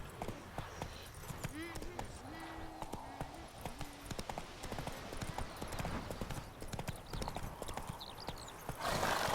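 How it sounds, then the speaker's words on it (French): Rapid rhythmic clip-clop of a horse's hooves at a gallop, steady and close, with occasional whinnies and a rider urging the horse on in French. "Ça va, le galop il est assez sympa."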